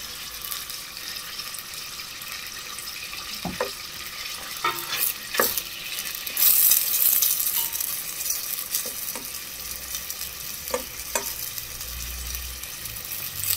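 Beef frying in a pan on a home stove gives a faint continuous sizzle, broken by a few scattered clinks and stirring scrapes, with no talking.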